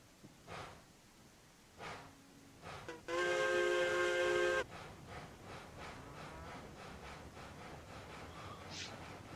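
Steam locomotive whistle from the Railroads Online video game: one loud, sustained multi-tone blast of about a second and a half, set among softer hissing and rail rumble.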